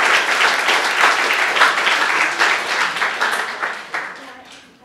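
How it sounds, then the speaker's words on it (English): Loud audience applause at a space hackathon orientation, dense sustained clapping from a room full of people that gradually tapers off toward the end. "Everyone give a big round of applause for Blake."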